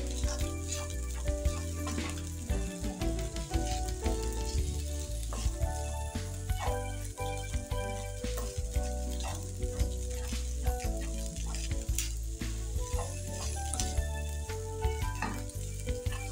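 Chopped onion sizzling and frying in a pan for stir-fry beef spaghetti, a continuous close crackle with frequent sharp pops and occasional stirring, steady throughout.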